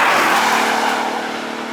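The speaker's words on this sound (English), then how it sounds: "5 liters of American V8 motor is quite nice to drive" Ford Mustang GT with a 5-liter American V8 driving on a country road, a loud, steady engine roar that holds close and constant throughout.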